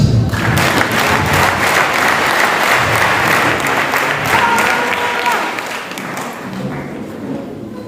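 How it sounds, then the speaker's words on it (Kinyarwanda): A church congregation claps for Jesus during a service, with dense, steady applause filling the room and then slowly thinning out toward the end. "mbere Yesu amashyi"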